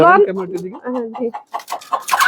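Hens kept on a home balcony cluck and call in short bursts, close and fairly loud, with people talking over and between the calls.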